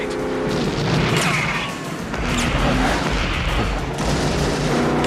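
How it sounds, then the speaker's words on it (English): Loud, continuous rumbling booms and blasts layered with crackling, like rapid-fire explosions and gunfire from an action scene, sustained throughout; explosions from rocket launcher cars in the 1989 film Tango & Cash. "Those explosions were cool."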